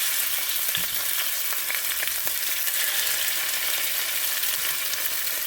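Steady, dense sizzling of deer meat frying in a pot, a continuous crackling hiss with a few sharper pops, close and fairly loud, no talking.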